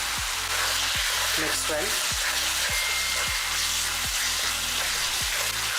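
Masala of Kashmiri chili powder, turmeric, coriander powder and salt frying in a pan, a steady close sizzle with repeated scraping stirs roughly every half second, while a voice speaks briefly over it.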